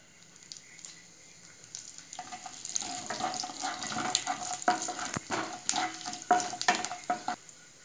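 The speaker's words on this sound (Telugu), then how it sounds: "ఆయిల్ వేడైందండి ఒక స్పూన్ పోపు గిన్నెలు వేసుకున్నాం అన్నీ కలిపి" A spoonful of tempering seeds hitting hot oil in a pan while cooking mango and pigeon pea dal, with a loud, close, crackling sizzle that starts a couple of seconds in and keeps popping and spattering.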